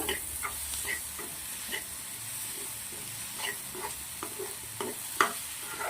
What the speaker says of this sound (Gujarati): હવે મસ્ત મજાનું મિશ્રણને મિક્સ કરી દેવાનું છે.